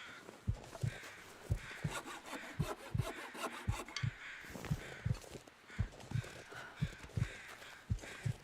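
Saplings being harvested in the survival video game The Long Dark, a steady rhythmic back-and-forth sawing of wood, about two strokes per second, clear and close with faint ambient wind underneath.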